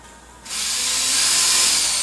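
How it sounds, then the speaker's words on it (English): A power drill pre-drilling bolt holes while mounting a homemade garage door opener, a steady high whirring drive that kicks in abruptly and holds loud and close with no talk. "I'm going to go ahead and pre-drill here for my 4 bolts."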